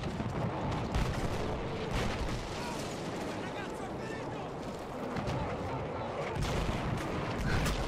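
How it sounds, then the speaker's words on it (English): Battlefield 1 video game combat, with explosions and gunfire in dense bursts and booms layered over a constant roar, at moderate level. "Many explosions."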